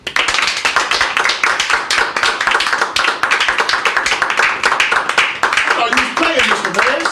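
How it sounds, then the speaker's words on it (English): Hands clap in a quick, regular rhythm, sharp close-up smacks repeating steadily throughout, with a voice briefly rising near the end. "clap my hands"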